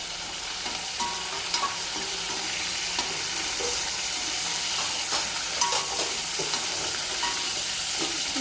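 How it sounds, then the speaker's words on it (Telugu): Dried red chilies and curry leaves frying in hot oil in a pan, a dense continuous crackling sizzle with scattered pops and faint utensil clicks, close and steady throughout with no voices. "ఎండుమిర్చి వేస్తున్నానండి. తర్వాత కరివేపాకు కూడా వేసుకుంటున్నాం. కొంచెం వేపుకుంటూ ఉండాలండి"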